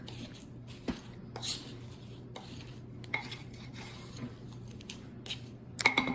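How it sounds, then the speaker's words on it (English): Curried chicken in a slow cooker gets a good stir, a spoon scraping and clinking against the pot in soft, irregular strokes over a steady low hum. "I've put everything into my slow cooker, so it's gonna look like this. We're gonna give it a good stir."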